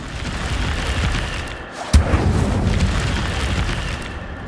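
Fiery blast of the Incendio spell in Hogwarts Legacy, a sharp whooshing burst near the middle that rumbles on over a dense, steady background of game ambience.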